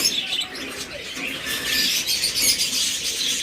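A creamino opaline pair of pet birds chirping, bright quick tweets and calls repeating close by, with occasional fluttering, steady and lively throughout.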